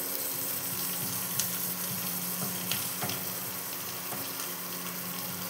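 Green chillies frying in a pan with salt and turmeric for a Bengali chocchori, a steady close sizzle with faint stirring scrapes and a few sharp clinks throughout, no voices.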